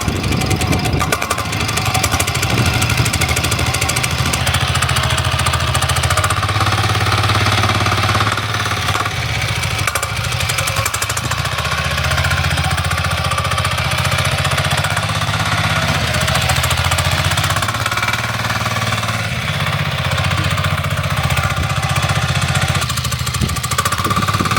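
Diesel engine on a homemade off-road trike running after starting, a loud, steady, rough low clatter that continues throughout, close by, with no talking.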